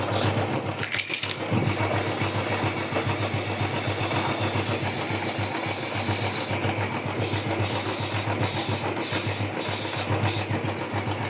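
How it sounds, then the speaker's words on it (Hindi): A motorcycle chain turning steadily in first gear gives a continuous whirring rattle; toward the end, short bursts of hissing spray cut in several times. "अभी आपको बहुत कम आ रही होगी चेन की आवाज़"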